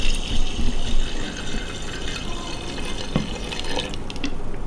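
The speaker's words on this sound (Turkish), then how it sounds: "şimdi benzinimizi dökeceğiz" Gasoline pouring from a container into a heater tank through a hose, a steady liquid trickle with splashing that holds for several seconds, close and fairly loud.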